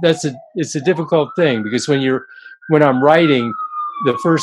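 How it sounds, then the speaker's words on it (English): A wailing emergency vehicle siren sounds outside a building on fire, its steady rising tone running beneath close, continuous speech from a man. "sorry about the siren, but building is on fire, so I'll make this quick."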